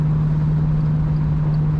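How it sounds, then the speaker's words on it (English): A 1935 Chevrolet Master Deluxe two-door street rod with an automatic transmission gives a loud, steady, close engine drone with an even low hum and no audible change in pitch. "Very good acceleration in this car."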